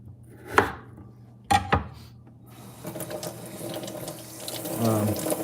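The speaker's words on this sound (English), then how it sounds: "I forgot to rinse off these potatoes here." Potatoes rinsed under a running kitchen tap, with two sharp clunks near the start, then a soft steady stream of water and light splashing close by.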